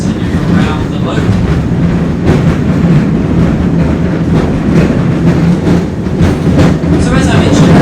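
The Auckland Dockline Tram rolls along its rails on a loop, heard from on board as a loud, continuous low rumble with rhythmic wheel clatter.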